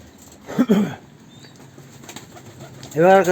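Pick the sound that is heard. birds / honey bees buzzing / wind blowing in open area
birds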